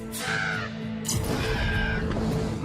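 Crows call out in a few harsh, rasping caws, separate squawks spaced a second or so apart and heard fairly close against quiet outdoor background noise.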